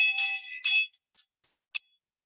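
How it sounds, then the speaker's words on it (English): Handheld hear ye bell rung in two quick clanging strokes, bright and close, followed by a few faint fading rings and short metallic tings in otherwise silent air. "This is my hear ye bell."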